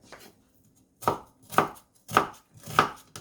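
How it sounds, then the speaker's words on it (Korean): A knife finely chopping a quarter of an onion on a cutting board, four sharp separate strokes at a steady pace after a quiet start, close and clear with no talking. "양파 4분 1개 잘게 썹니다."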